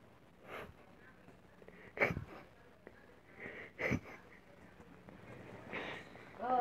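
Heavy, wheezing breaths come in a few loud bursts with rasping gasps between them, close and uneven, amid faint background noise.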